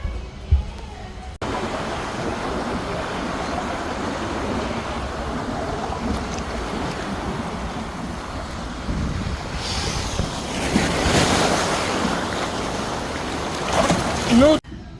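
At a water park lazy river with waterfalls, water rushes and splashes in a continuous broad wash, mixed with gusty wind buffeting the microphone, while voices talk nearby.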